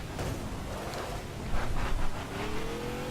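A drag car's engine revs hard in the racing video game The Crew, a loud, continuous roar that surges in the middle and climbs in pitch toward the end.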